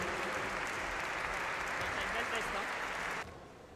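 Sustained applause from an audience, steady and dense, fading slightly at the very end.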